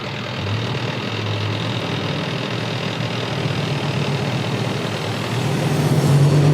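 Cars and a truck drive slowly around a parked police car in front of a school at dismissal time, a steady close rumble of idling and moving engines that swells louder toward the end.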